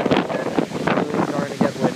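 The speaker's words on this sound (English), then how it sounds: "It's really starting to get windy." Gusty wind of Hurricane Sandy buffets the microphone in short, uneven bursts, loud and close, over a background of open water from flooding.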